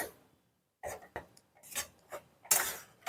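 A spoon stirs a stiff rice flour and milk powder dough in a pot for paal kozhukattai, making sporadic knocks and scrapes against the metal after a brief quiet start.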